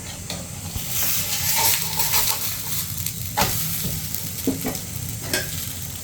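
Maize roti cooking in oil on a hot griddle, crackling with a steady close sizzle, with occasional scraping and tapping as it is pressed and turned.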